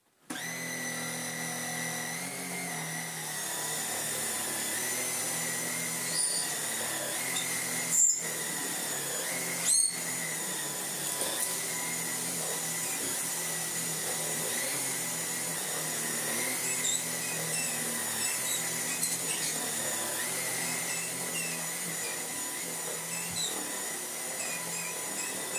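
Tineco Floor One S12 vacuum cleaner running on max over a rug, a steady high-pitched whine and hiss held for the whole stretch, with a couple of brief clicks.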